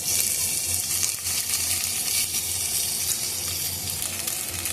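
Green chillies, curry leaves, cumin and ginger-garlic paste sizzle steadily in hot oil, a dense continuous crackling hiss that stays loud and close without pause.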